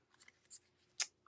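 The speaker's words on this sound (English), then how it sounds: "Okay, so now let's trim this at an angle." Paper being trimmed at an angle with scissors: a few faint snips, then one sharp, louder cut near the end, with no speech.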